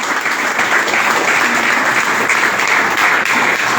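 An audience at an IMC direct-selling business gathering for a mega Ayurvedic centre claps steadily for area manager Vivek, a continuous, fairly loud wash of many hands with no pause and no talk over it.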